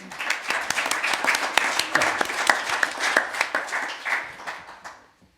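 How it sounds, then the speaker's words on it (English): An audience at a cybersecurity institute's annual general meeting breaks into a round of applause, a dense spread of clapping that swells quickly, holds for several seconds and then fades out. "I think that deserves a round of applause."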